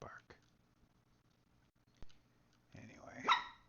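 A dog barks in a few sharp, close bursts, spaced apart with quiet gaps, the last one louder and more drawn out, while someone speaks softly nearby.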